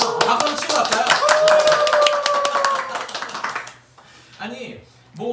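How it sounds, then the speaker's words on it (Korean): A handful of people clap briskly in a live-stream shopping studio for a few seconds, sharp individual claps mixed with a voice, then the clapping stops and only talk remains. "박수 치고 갈까요?"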